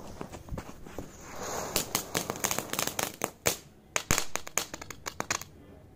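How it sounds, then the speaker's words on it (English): A pop firework burns and crackles in snow during Diwali, giving a rapid, irregular series of sharp snapping pops that thickens into dense crackling midway, close and fairly loud with no talk. "Let's try the pop firework."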